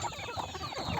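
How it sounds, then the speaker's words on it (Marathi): A free-range native country hen clucks in a short, close burst of soft, repeated clucks with no talking. "गावरान कोंबडी मुक्त संचार पद्धतीने आपण तयार केलेले आहे."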